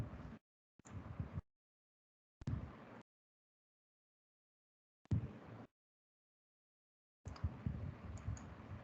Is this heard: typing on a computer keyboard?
yes